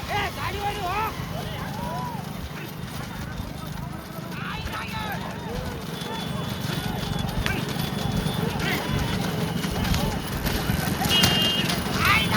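Hooves of horse-drawn carts clip-clop rapidly in a steady galloping rhythm during a cart race at Dadamatti maidan, running continuously under loud crowd shouting and excited talk.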